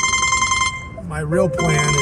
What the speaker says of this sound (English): to pardon the phone ring